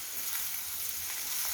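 Curry leaves and masala fry in a pan for a baby potato fry, giving a continuous close, bright sizzle and crackle with faint stirring and no voices.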